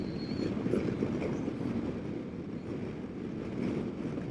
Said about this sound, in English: the train, it's just going by in the wrong direction